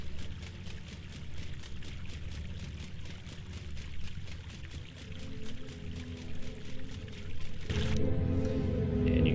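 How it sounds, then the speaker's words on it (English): Fountain water flowing continuously at a Jedi Temple meditation spot in Knights of the Old Republic II, a soft steady pouring wash that grows louder and brighter in the final second. "Many Jedi have come to this fountain to meditate. Peaceful sound of the water helps clear your thoughts and calm the mind."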